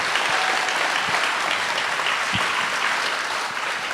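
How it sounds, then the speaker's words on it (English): An audience at a high school graduation gives the school staff a round of applause, with a continuous wash of many hands clapping at steady, fairly loud volume. "So another round of applause for our Shabazz staff."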